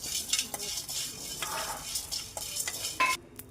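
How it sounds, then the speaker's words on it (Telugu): A metal spoon stirs and scrapes through spices and lentils dry-roasting in a hot kadai, with irregular clinks and rustling scrapes close by, and a soft sizzle underneath. "ఫస్ట్ మసాలా వేసుకొని రోస్ట్ చేసుకోవాలి."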